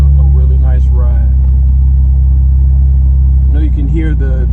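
A G-body car with a V6 engine and a leaking muffler gives a deep, steady exhaust rumble that stays loud throughout, while someone talks over it.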